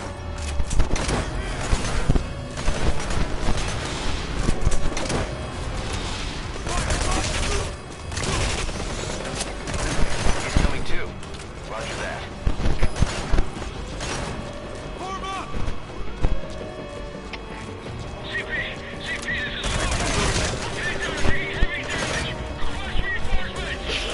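Gunfire in the video game Metal Gear Solid V, with bursts of rapid shots and mechanical clatter scattered throughout, some loud and close, mixed with game effects and someone talking over the action.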